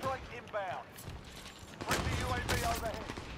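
Gunfire in the video game Rebirth Island, with bursts of shots crackling over a busy game mix while players talk excitedly, the heaviest firing coming in the second half.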